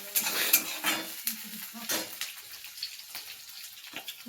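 Cumin seeds tempering in hot oil for a home-cooked lunch, giving an uneven crackling sizzle with stirring scrapes. Loud at first, then settling to a quieter fizz, with no talk.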